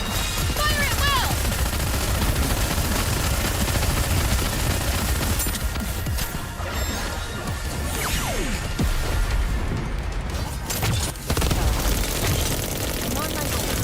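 Rapid gunfire and bursts of automatic weapons fill a battle in the video game Nikke: Goddess Fall, loud and continuous, with whooshes and crashes layered under frequent character voices speaking.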